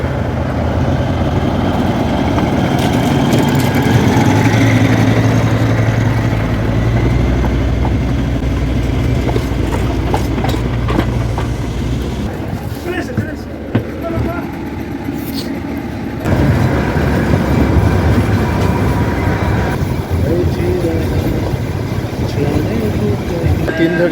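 Darjeeling toy train engine idling at a station, a steady loud rumble that shifts midway as the train begins to depart, with people talking throughout.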